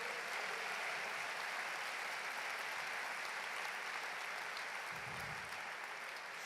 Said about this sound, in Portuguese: aplaude e glorifique a Deus nessa noite